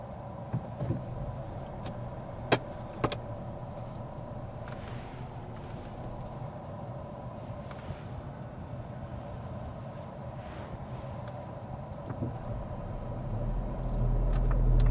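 A car pulling away from a stop on a driving test gives a steady, moderate engine hum throughout, with a couple of brief clicks early on and the drone swelling louder near the end.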